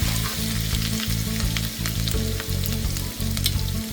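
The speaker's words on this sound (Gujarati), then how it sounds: "આદુ મરચાંની પેસ્ટ છે એને થોડીક સોતરવા દઈશું." Ginger-chili paste sizzling loudly in hot oil in a pan, a dense continuous crackle close by with a low rhythmic pulsing from the stove underneath, no talk.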